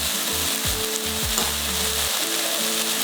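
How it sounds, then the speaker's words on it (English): Spices including cayenne pepper, garam masala and coriander powder sizzle in a pan for a samosa filling, a steady close crackle with a few tonal scrapes as they are stirred. "Let's just mix and cook everything together for like a minute"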